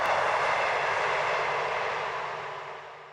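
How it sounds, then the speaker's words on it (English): A train rumbles past beside the Bridgwater and Taunton Canal with a broad, steady roar that slowly fades as it moves off into the distance. "the peace of the canal is disturbed by the sound of a passing train"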